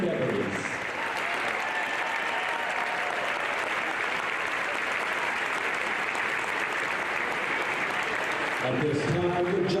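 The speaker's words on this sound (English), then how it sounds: "Please join me in thanking our seniors and their parents with a round of applause" A crowd at a high school boys basketball game gives steady, loud applause for the seniors and their parents, filling the gym for several seconds before fading.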